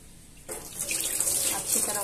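A kitchen tap turns on after a brief quiet moment and water runs steadily while mackerel fish are washed, close and continuous to the end.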